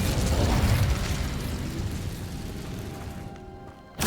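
Fire spell cast in Hogwarts Legacy: a loud whooshing burst of flame that roars at once and then fades over several seconds, ending with a short sharp noise.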